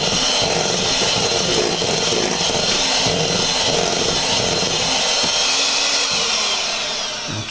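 Electric mixer beaters whir steadily through pudding mix, a loud continuous motor drone that holds for several seconds and tapers slightly at the end, with no talking.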